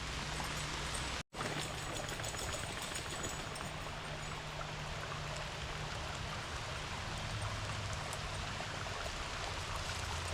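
Rain falling outdoors makes a steady, dense wash throughout with a low constant hum beneath, broken by one brief dropout early on.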